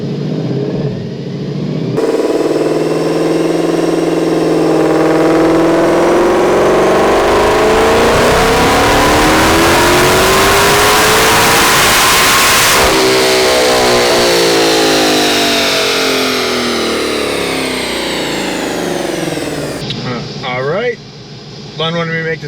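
A modified car engine, tuned to make around 1000 horsepower, pulls a short wide-open-throttle run to 5,500 rpm, a loud rising roar that sweeps up in pitch, then eases back down to a lower drone.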